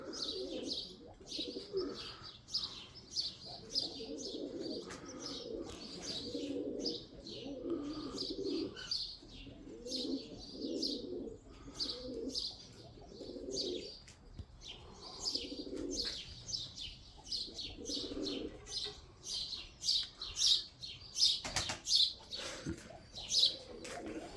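Pigeons cooing in repeated low phrases at an early-morning flying session, with chirps, occasional wing flaps and steady background bird calls throughout.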